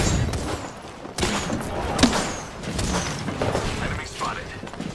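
Gunfire in the video game Apex Legends, with sharp shots around the two-second mark and scattered bursts amid dense game sounds, while a game voice speaks over the action.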